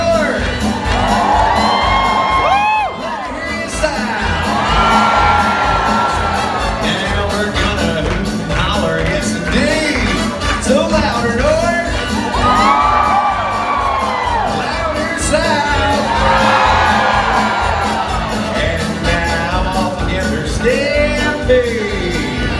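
A large audience at Dolly Parton's Stampede dinner show cheers, whoops and shouts in loud sustained waves, with children's high yells rising and falling through the crowd noise.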